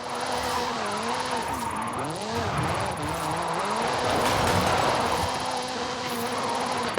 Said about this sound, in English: This is Mr. Kenneth Block's Hoonigan Gymkhana 10 Ford Focus RS RX.